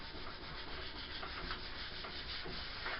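Hand sanding of wooden furniture to strip paint off, a steady close-up rasping scrape with repeated back-and-forth strokes running continuously, with no voices.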